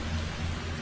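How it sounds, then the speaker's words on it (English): Steady rain falls outdoors, a continuous even hiss of drops with a low hum beneath it and no distinct individual impacts. "it is raining now."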